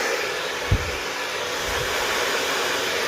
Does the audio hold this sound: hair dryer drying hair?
yes